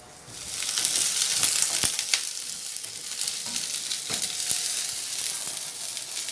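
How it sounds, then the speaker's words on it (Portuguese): Okra frying in a pan, with a steady, close sizzle and crackle broken by sharp scrapes and taps as it is stirred. "E aí eu vou misturando ele até eu ver que ele tá mais ou menos fritinho"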